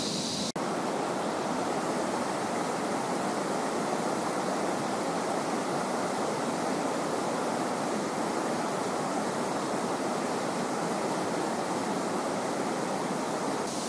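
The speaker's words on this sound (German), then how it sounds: "Wir haben den kleinen reißenden Fluss überquert" A small, fast-flowing jungle river on Langkawi, Malaysia, rushes with a steady, dense broadband roar that stays constant and close throughout, with no voices over it.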